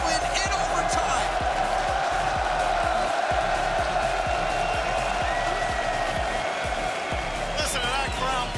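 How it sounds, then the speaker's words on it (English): Arena crowd at the 2025 Rocket League World Championship roaring in a dense, sustained wall of cheering and applause after Wildcard's overtime game win, steady and loud throughout with a commentator talking over it. "Listen to that crowd pop off for Wildcard getting their first game win."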